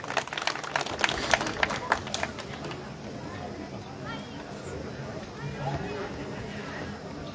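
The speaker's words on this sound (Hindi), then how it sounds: "आप भी जोरदार तालियों से उनका स्वागत करें" An audience at a Dussehra fair in Kuthar claps to welcome the chief guest, a brisk burst of applause that quickly thins out and fades into a background murmur.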